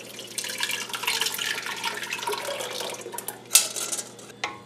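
Homemade tomato sauce pours and splashes into a pan on the stove, a steady wet trickling that runs for several seconds and ends with a couple of sharper drips and clinks close by.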